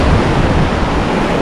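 Surf rolls onto Devghali beach near Ratnagiri as a steady broadband wash, close and fairly loud, with wind buffeting the microphone.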